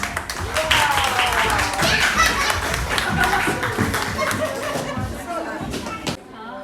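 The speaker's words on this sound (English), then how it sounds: "Let's clap for you." At a school annual concert, an audience of children and adults claps in a scattered, uneven patter of close hand claps, with chatter and a chuckle under it, fading before a final few claps.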